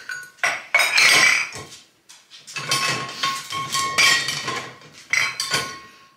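Dishes and cutlery clink and clatter up close as they are handled, in busy bursts separated by a short pause.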